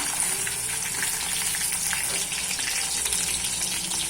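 Mushroom 65 pieces deep-frying in hot oil give a steady, dense sizzle and bubbling crackle that stays loud and even throughout, with no voices.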